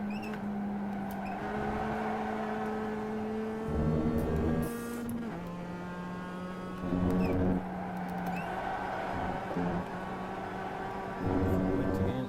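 A racing car engine in the iRacing sim game holds steady revving tones that shift pitch through gear changes, with short throttle blips on downshifts while a person talks over it.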